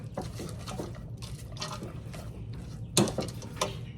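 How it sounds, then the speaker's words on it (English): Frozen peas being stirred into pasta carbonara, giving a wet, sticky churning with soft repeated scrapes of a spoon and one sharper clack of utensil on the pan near the end, close and steady. "And then we're going to add in our 1 cup of frozen peas. We're going to stir this."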